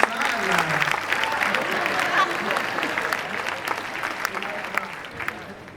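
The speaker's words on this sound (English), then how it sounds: "Everybody give Chris a round of applause" A live audience at a sales-company gathering applauds continuously for the whole stretch, a dense, steady wash of clapping with a few cheers and voices mixed in.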